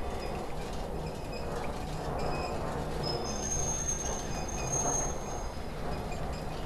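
Mine cart rolling on rails in Outlast 2, a steady low rumble of wheels on track with thin metallic squeals rising over it, moderately loud and continuous without speech.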